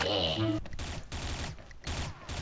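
Gunfire from the online shooter game Xshot rattles in rapid bursts. A voice is heard briefly at the start before the volleys continue.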